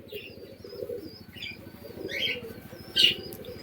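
A female pigeon coos with a low, soft, rhythmic pulsing close by, while brief chirps and light wing flutters sound faintly above it.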